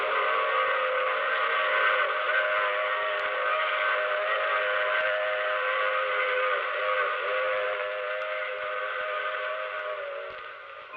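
A train sound effect for a radio drama: a sustained, steady steam-style whistle with layered tones rings out continuously over a running train for about eleven seconds, holding level before easing slightly at the end, with no talking.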